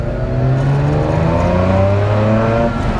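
A Mazda RX8's rotary engine hums loudly while driving at modest speed, its smooth rising drone climbing steadily through the revs with no talk over it.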